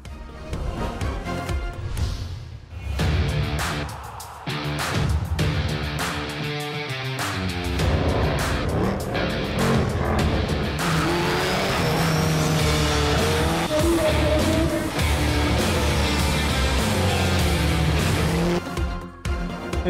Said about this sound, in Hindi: किसी ने बर्क रफ्तार गाड़ी चलाई तो किसी ने कार ड्रिफ्टिंग के फन का मुजाहिरा किया।